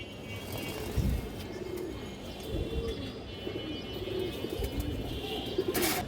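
White pigeons of racer and high-flyer breeds giving soft repeated coos from close by, over a rustling, slightly noisy background with a few knocks and no talking.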